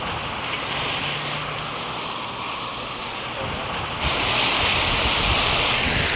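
A fire hose nozzle twisted to a wide spray pattern at a firehouse sends out a steady broadband rush of water that grows louder and brighter partway through, continuous with no talking.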